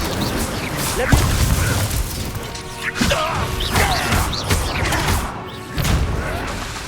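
Confringo and Incendio spell blasts in the video game Hogwarts Legacy, a string of booming crashes and impacts spaced a second or so apart, with voices shouting and talking over the combat.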